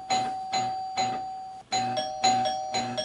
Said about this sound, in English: the front door is denoted by a ding-ding